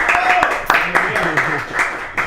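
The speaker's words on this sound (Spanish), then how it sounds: "a quien yo pido un fuerte aplauso para ella" Applause breaks out for María Luisa Ferreira at a public event, a short burst of clapping from the audience heard under a speaking voice.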